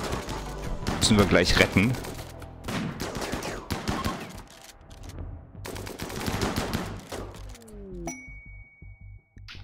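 Automatic and single gunfire in RimWorld, the colony game, comes in dense bursts with short gaps while someone talks over it, and a chime rings near the end.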